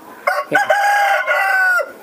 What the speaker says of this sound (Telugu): ఇదిగోండి ఇవన్నీ కోళ్ళు అనమాట, చూసారా.